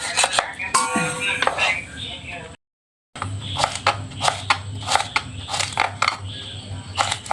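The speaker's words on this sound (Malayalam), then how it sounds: "നാരങ്ങ ചെറുതായിട്ട് അരിഞ്ഞെടുക്കുക." A knife chops lime into small pieces for a vadukapuli lime pickle, making rhythmic, fairly loud taps on a cutting board, broken by a brief silent gap midway.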